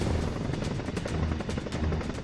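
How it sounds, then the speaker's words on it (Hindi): Military helicopters, a Chinook and an Apache, fly over a high-altitude advanced landing ground in Ladakh near the Chinese border. Their rotors make a dense, steady, rhythmic chopping roar, heard at a distance and moderately loud. "चिनूक हेलीकॉप्टर से वायुसेना के गरुड़ कमांडो एक खास ऑपरेशन को अंजाम दे रहे हैं"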